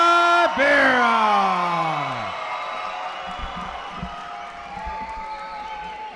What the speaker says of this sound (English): Please give a big round of applause for Alejandro